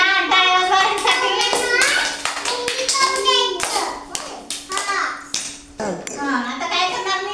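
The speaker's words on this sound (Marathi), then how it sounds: "छान, टाळ्या वाजवा ह्यांसाठी" Children at a preschool center clap in quick sharp bursts, near and loud, while a voice and children's speech run over and between the claps.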